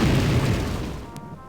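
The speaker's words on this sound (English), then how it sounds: "a massive explosion throws his body back like a rag doll" A massive explosion goes off at a magic rune in the PC adventure game Death Gate, a single loud deep boom with a burst at the start that fades into a rumbling tail, heard alone.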